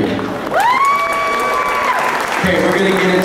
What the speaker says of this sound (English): If I could get a round of applause for Gustav Chaduri